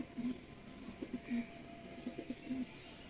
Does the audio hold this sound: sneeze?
no